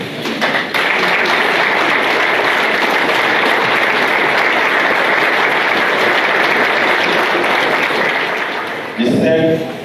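Sustained applause from a large audience standing for an ovation at a formal ceremony, loud and continuous for about nine seconds, with a voice briefly rising over it at the end.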